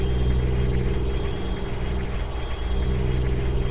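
A Cummins truck engine sound mod in American Truck Simulator gives a deep, continuous diesel rumble with a steady low drone, loud and close, with no talk.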